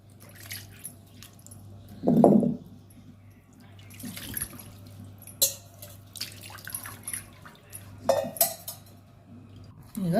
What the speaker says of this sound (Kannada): ಈಗ ಸ್ವಲ್ಪ ನೀರು ಹಾಕಿ ಎಲ್ಲ ತೊಳ್ಕೊಂಡು